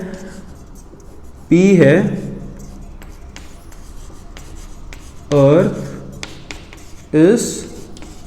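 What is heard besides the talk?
writing on a board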